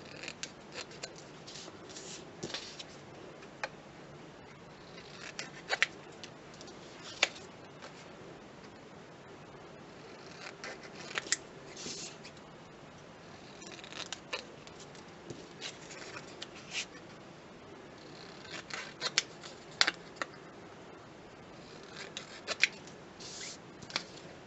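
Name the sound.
cutting material for a teapot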